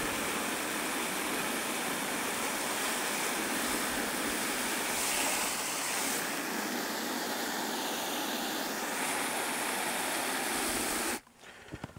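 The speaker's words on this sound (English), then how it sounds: "So that whooshing sound you hear is me filling this cooler with some" Steady, loud whooshing rush of water pouring into a driver cooling system cooler from a hose, running unbroken for about eleven seconds before cutting off abruptly.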